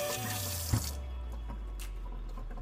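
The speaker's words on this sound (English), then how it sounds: "I'm just going to pour some kombucha in with it so it forms better" Kombucha is poured into a container, a close, loud splashing gush for about a second that settles into a quieter trickle and drip.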